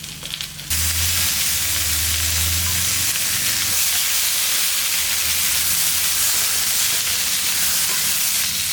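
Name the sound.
onions and tomatoes frying with urad dal in a pan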